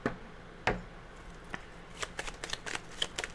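Lenormand fortune-telling cards being shuffled by hand: a sharp riffle near the start followed by a run of quick, crisp card flicks and slaps, close and fairly quiet, with no talking.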